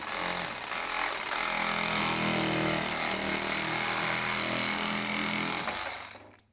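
A Milwaukee M12 Hackzall cordless reciprocating saw fitted with a metal-cutting blade cuts through ABS plastic drain pipe, giving a loud, continuous buzzing rasp for about six seconds that stops abruptly at the end, with no voices.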